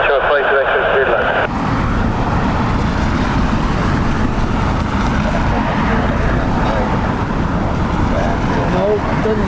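A jet airliner aborting its landing and going around in a stormy crosswind at Dublin Airport: a steady, loud engine roar mixed with gusting wind noise throughout, with voices talking over it.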